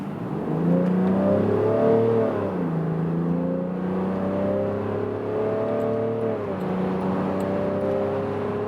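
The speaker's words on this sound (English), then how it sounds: "Now acceleration from 40 kilometers an hour, let's go." A 2022 Land Rover Defender 90 L663 with a 6-cylinder diesel accelerating hard from 40 km/h on a motorway, engine drone rising steadily through the gears with brief dips at each shift, loud and continuous from inside the cabin.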